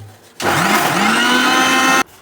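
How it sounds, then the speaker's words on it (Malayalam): A mixer grinder blends ripe jackfruit with sugar into a thick paste for a cake batter, whirring loudly and steadily for about one and a half seconds, then cutting off abruptly. "അപ്പോൾ നല്ല ഗ്രേവി പോലെ ആകാൻ വേണ്ടി നല്ല കുറച്ച് മിക്സിയിലിട്ട് അടിച്ചെടുക്കുന്നുണ്ട്"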